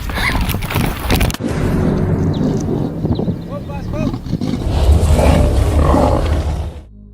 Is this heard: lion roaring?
yes